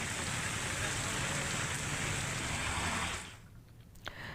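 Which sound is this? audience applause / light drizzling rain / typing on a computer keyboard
light drizzling rain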